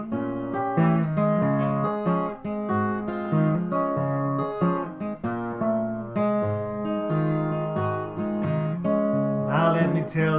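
Blues guitar playing a passage in a West Coast style, a steady run of plucked notes and chords at an even, moderately loud level throughout, with no voice over it.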